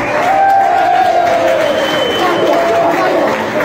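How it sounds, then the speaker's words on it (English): Crowd applause and cheering at an event honoring BMX riders Eddie Fiola and Martin Aparijo in Cleethorpes, loud and continuous, with a voice calling out over the noise. "A round of applause for Eddie and Martin."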